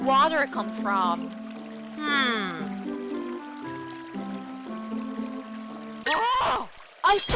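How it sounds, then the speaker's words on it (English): Tap water left running after hand washing, a steady pouring flow that sits beneath children's playful voices and sung-out speech for most of the stretch. "Oh, I forgot to turn off the water when I wash my hands."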